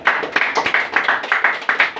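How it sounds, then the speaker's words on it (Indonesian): A church congregation claps together for God in a quick, steady rhythm, with loud repeated hand claps close by and no talking over them. "Tepuk tangan dulu buat Tuhan"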